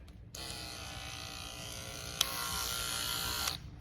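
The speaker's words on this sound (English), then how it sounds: "All right, so this is the cordless." An Oster Fast Feed cordless hair clipper runs with a steady, close electric buzz. The hum holds constant for a few seconds, brightens slightly midway, then stops.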